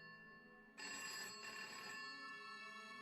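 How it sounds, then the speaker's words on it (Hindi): A landline telephone bursts into a loud, continuous electronic ring after a brief quiet moment, in a spoken horror story, ringing on steadily to the end. "आनंद का फोन बजा"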